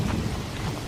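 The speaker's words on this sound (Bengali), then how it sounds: "এদিকে বৃষ্টির তোর যেন বেড়েই চলেছে।" Heavy rain pours down at night over a paddy field, with a dense, steady roar of rainfall and deep rumbling thunder filling the brief stretch.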